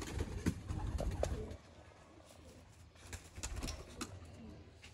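Pigeons cooing in soft, repeated throaty calls, several birds close by, steady and unhurried with no talking.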